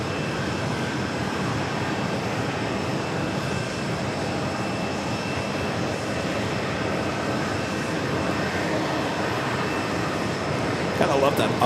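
JetBlue Airbus A320 at New York's JFK airport, a continuous distant jet engine rumble and whine holding steady, with a voice talking over it.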